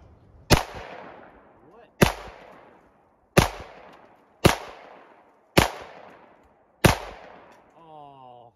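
The ARK gun fires six loud, sharp shots at a target, spaced about a second and a half apart, each with a short ringing tail, followed by a brief warbling tone.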